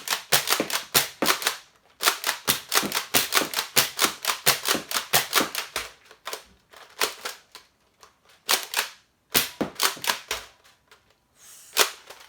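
Rapid mechanical clicks and clacks from a Nerf Rival-style toy shotgun being loaded with rounds, coming in quick bursts with short pauses, close by, with no talking.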